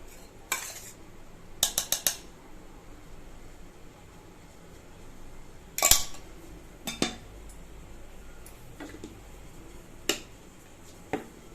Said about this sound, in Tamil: மாவை வந்து இந்த மாதிரி நல்லா மிக்ஸ் பண்ணிட்டு கொதிக்கிற தண்ணியை இதில் மிக்ஸ் பண்ணிக்கலாம்.